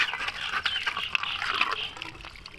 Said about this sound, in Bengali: ভালোভাবে প্লেটটাকে পরিষ্কার করে নিই